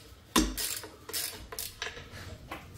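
Ratchet wrench tightening bolts on a 2001 Jeep Wrangler TJ: several short bursts of rapid clicking, close and crisp, with brief pauses between strokes.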